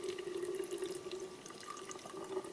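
Water streams through a backpacking water filter into a pint container, a steady trickling pour with a faint tonal ring, continuous and close throughout.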